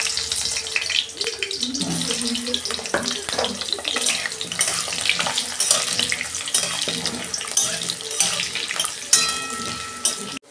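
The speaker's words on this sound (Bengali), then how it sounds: "আমি প্রথমে আলুটা একটু ভেজে নেব।" Potatoes frying in hot oil in a kadai, a loud, continuous sizzling and crackling with scattered clatter throughout, no talk over it.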